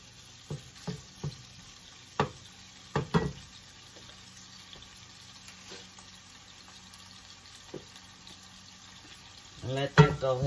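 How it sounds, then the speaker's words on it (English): Onions frying in a pan make a faint, soft sizzle beneath scattered stirring clicks and knocks, with a louder clatter of utensils near the end. "you're going to let this here fry up some"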